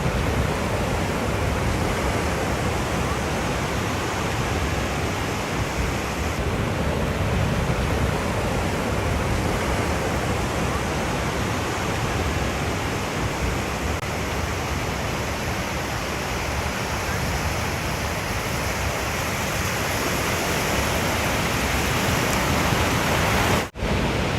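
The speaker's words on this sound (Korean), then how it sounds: "바다 소리 좀 들을게요." Pacific Ocean surf at Venice Beach, California, a continuous loud broadband wash of breaking waves with no clear individual crashes and no voices.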